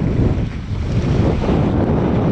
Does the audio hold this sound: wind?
yes